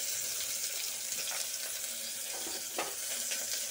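Cubed onions go into hot oil with curry leaves for a drumstick and brinjal kuzhambu, giving a steady broadband sizzle with a few louder crackling bursts.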